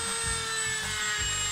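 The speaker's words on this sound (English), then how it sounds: "round sanding attachment for the Dremel" Dremel rotary tool fitted with a round sanding attachment working a wooden edge, a steady high whine running alone throughout with faint rubbing grit beneath.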